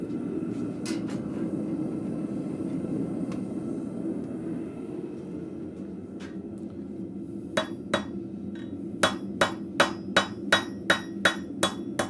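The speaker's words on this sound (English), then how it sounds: "we're not doing real hard blows here. We're letting the anvil do more work than the hammer" Blacksmith's hammer strikes metal on an anvil while forging scrap into arrowheads, with sparse blows giving way to a steady run of close, ringing, evenly spaced hits over a low shop rumble.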